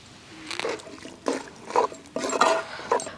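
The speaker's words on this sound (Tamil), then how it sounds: "இப்போ நான் பெரிய டம்ளரில் 1 டம்ளர் தண்ணி சேர்த்துக்கிறேன்." A tumbler of water is poured into a pan of drumstick masala, giving several short splashing, gurgling pours with bubbling in between, close and moderately loud.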